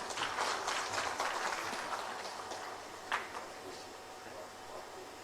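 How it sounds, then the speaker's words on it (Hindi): An audience applauds to welcome the finance minister of the Jharkhand government, Dr. Rameshwar Oraon, at a 2022-23 budget seminar. The clapping is steady and broad, fading slightly toward the end. "तालियों के साथ स्वागत करें माननीय मंत्री महोदय का।"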